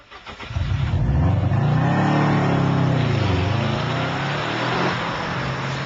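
A Subaru WRX STI or Mitsubishi Lancer Evo accelerating on a wet racetrack, its engine note rising loud and close, swelling and dipping through gear changes under a steady rush of noise.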